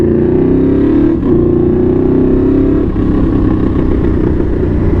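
A Yamaha V-Max motorcycle engine runs loud and close, a steady heavy throb that dips briefly twice and then holds a rough, powerful rumble throughout, with no voices.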